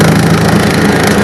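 A John Deere 4044M tractor bush hogging palmetto brush in low gear gives a loud, steady engine and mower roar that holds constant and close throughout.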